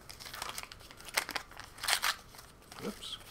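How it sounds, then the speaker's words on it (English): Paper tears during a live prize draw, with several crinkling rips and crunches of moderate loudness in irregular bursts over quiet background. "oops, ripping the paper here"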